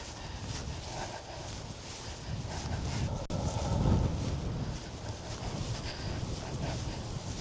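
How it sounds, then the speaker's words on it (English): Wind buffets a microphone on an open country trail walk, a steady low rumble with a stronger gust swelling midway, loud and close, no voices. "big gust of wind"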